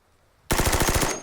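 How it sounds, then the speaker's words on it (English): Machine gun firing a rapid burst of about ten shots, loud and close, breaking out suddenly after near silence and ending with a brief ringing tail. "machine guns can be finicky"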